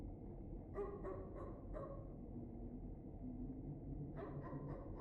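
A dog barks in a few short, faint, distant bursts, then pauses and barks again in another quick cluster over a low rumbling background.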